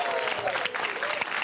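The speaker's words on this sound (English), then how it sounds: "Give them a round of applause." Studio audience applause on a television comedy panel show, a dense, steady wash of many hands clapping that fills the short moment at an even level.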